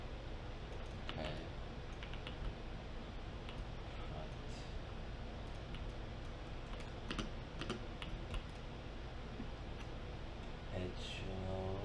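Computer keyboard keys are pressed in scattered, quiet clicks and short bursts against a steady background hum, without speech.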